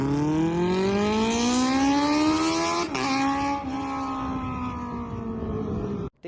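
Kawasaki Z800 motorcycle fitted with a decatted race exhaust, revving up close in a loud rising howl that holds, dips briefly, then falls away and cuts off near the end, with no talking.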